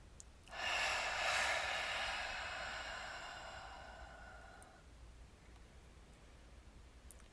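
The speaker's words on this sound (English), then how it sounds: "Take a big cleansing breath." During a gentle spa-style yoga session, one long, deep cleansing breath rises, swells loudly, and then slowly tapers off as an airy, close exhale, with a faint room hush before and after.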